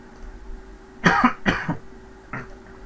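Three close coughs, two in quick succession and a softer one after a short pause, no speech.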